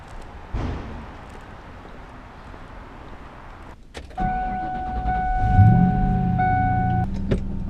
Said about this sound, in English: I think I'm going to drive the Mustang home tonight.